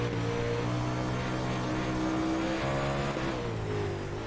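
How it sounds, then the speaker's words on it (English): A dirt race car at Eldora Speedway during The Snap on Eldora 100, its engine holding a steady, high, buzzing drone that shifts pitch briefly partway through, heard alone without commentary. "Car sounds good. He's not bogging it at all. He's not over revving and not spinning the tires."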